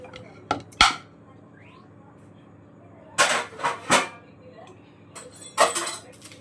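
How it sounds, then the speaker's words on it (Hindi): A metal spoon clatters in with discarded momos, a few sharp clinks and rattles separated by quiet gaps, with brief clusters of clattering later on. "गलती से मैंने चम्मच भी फेंक दिया जिससे मुझे खाना था"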